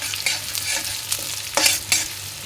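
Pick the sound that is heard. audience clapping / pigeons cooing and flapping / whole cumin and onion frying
whole cumin and onion frying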